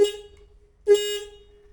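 A motorbike's stock horn gives two short honks. The first is brief and the second is held a little longer, both loud and close in a quiet setting with no talking.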